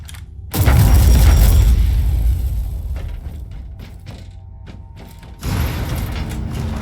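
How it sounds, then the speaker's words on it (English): A trap going off in Warhammer 40K Inquisitor gives a loud booming explosion, followed by a stretch of scattered clatter and thuds before a second loud burst of noise near the end. "And again, I trigger another trap."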